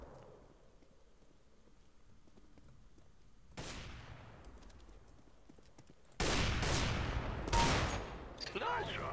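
Gunfire in a CS:GO one-on-one match: faint clatter at first, then a single shot, followed by two louder, close bursts of rapid shots near the end.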